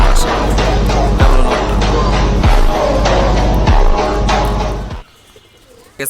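Several pigeons coo in a loud, dense, steady chorus with repeating rhythmic calls, ending abruptly about a second before the end, when only faint background noise remains.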